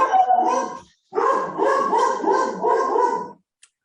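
Dogs barking and yipping in quick, howl-like bursts, close by, with a brief pause before a longer run of barks.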